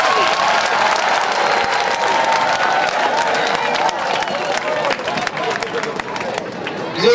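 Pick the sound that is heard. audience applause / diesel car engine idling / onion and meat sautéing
audience applause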